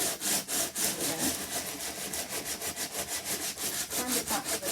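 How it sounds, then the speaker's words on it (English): Back-and-forth rasping of a sanding block over greyboard coated in chalky paint, in fast, even strokes, close and continuous with no speech. "you can just use any old sanding block"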